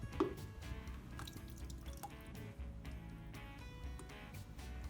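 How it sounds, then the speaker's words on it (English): Water drips from a handful of squeezed paper pulp into a container below, a few quiet, scattered drips and trickles over a soft background. "grab some paper mush and squeeze out the water until you have a little paper pulp to work with"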